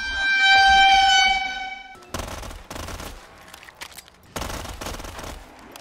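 A Scorpion submachine gun fires in Black Ops 3 zombies on a custom map, in rapid, loud bursts with short gaps. A sustained tonal chime plays before the shooting starts.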